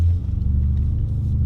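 A Range Rover Sport with a 640 hp engine while driving, heard as a loud, steady low rumble of engine and road noise from inside the cabin, with no talking.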